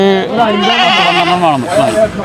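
Goats bleat at the century-old Areekode goat market in Kerala, wavering cries rising over a steady hubbub of people talking close by.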